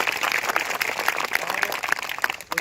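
A crowd of exam candidates at a gathering claps for themselves, a dense, steady burst of applause lasting a couple of seconds with some loud individual claps and a faint murmur of voices underneath.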